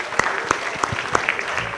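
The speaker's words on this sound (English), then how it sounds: "Can we have a round of applause for him?" Sparse, scattered clapping from a small audience at a business talk event, a handful of distinct claps spread unevenly over a couple of seconds at moderate level.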